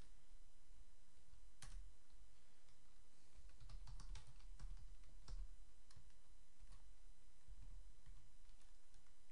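Typing on a computer keyboard: soft, irregular key clicks in quick clusters and single taps, fairly close and quiet, with no voices.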